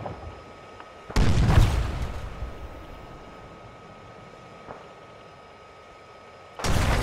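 In a war video game, rocket and artillery fire lands as a loud, sudden boom that rolls and fades over several seconds. A second heavy blast hits near the end above a low background hum.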